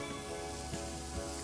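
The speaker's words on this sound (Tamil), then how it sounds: "கேப்சிகம் போட்டு கொஞ்சம் வதங்கினதுக்கப்புறம் கேரட்டும் ஆட் பண்ணியாச்சு" Chopped capsicum and grated carrot sautéing in a pan give a soft, even hiss of sizzling, faint and continuous over a brief moment with no talk.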